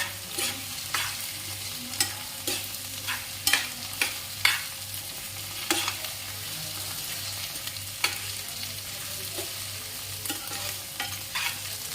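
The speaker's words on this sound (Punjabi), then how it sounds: "ਇਹਨਾਂ ਨੂੰ ਚੰਗੀ ਤਰ੍ਹਾਂ ਭੁੰਨਾਂਗੇ" Thin sliced onions frying in a pan, a steady sizzle broken by regular clinks and scrapes of stirring, close and without voices.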